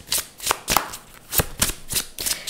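Tarot love message cards being shuffled by hand, a rapid series of close, crisp riffling bursts in an uneven rhythm, with no talking.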